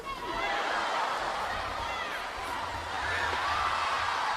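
Dense arena crowd at a Manny Pacquiao versus Chris Algieri professional boxing match, a loud continuous roar of many voices swelling and easing, with a commentator talking over it.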